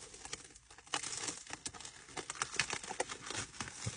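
Indoor bird sounds, faint chirps and soft cooing like a pigeon or dove, scattered irregularly against a quiet background with light tapping.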